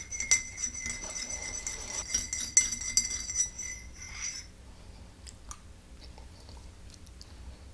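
A spoon stirs orange blossom honey in a glass, giving bright, close clinks and tinkling scrapes for a few seconds, then a faint handling sound afterward.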